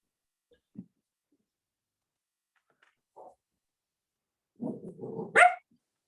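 Puppy barking during a quiet committee meeting room session, a few sparse single yips followed by a short burst of excited barks ending in a high whine, near and otherwise silent.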